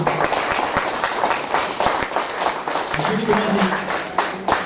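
Applause from an audience, scattered claps blending into a steady patter, with a voice murmuring underneath.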